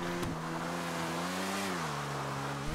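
A motorcycle engine in GTA 5 Online hums steadily, then drops slightly in pitch and rises again, a continuous mid-range drone with no talking.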